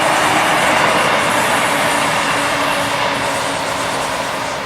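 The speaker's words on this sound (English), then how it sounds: "Right, here's the next train now to Rugeley." A combined Class 153 and Class 170 diesel train bound for Rugeley passes close by with a loud, steady roar and rumble of wheels and engines, easing slightly toward the end.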